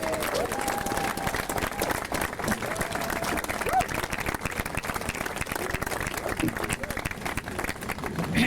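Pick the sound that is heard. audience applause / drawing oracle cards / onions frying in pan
audience applause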